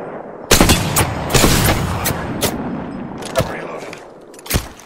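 Gunfire in a shooter video game comes in several sharp, loud bursts of shots, with short gaps between volleys and a steady background din running underneath.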